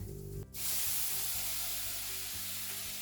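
Fresh-squeezed lemon juice hits hot lemon rice in a pan, setting off a sudden bright sizzle and hiss that rises sharply after a brief pause and holds steady over a low background hum.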